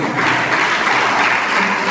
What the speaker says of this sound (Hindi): तुमने अधूरी कविता में ताली बजा दी